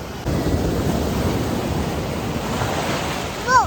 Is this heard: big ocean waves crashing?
yes